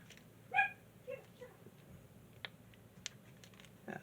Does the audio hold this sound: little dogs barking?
yes